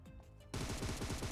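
Rapid automatic gunfire from the mobile battle-royale game BGMI, a dense burst of repeated shots starting abruptly after a quieter half-second of ambient game sound, loud and close with no talk.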